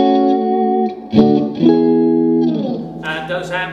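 Strat replica electric guitar through an Orange Rockerverb 50 amp with an out-of-phase pickup setting, playing sustained chords and a few plucked notes with a thin, hollow, slightly driven tone.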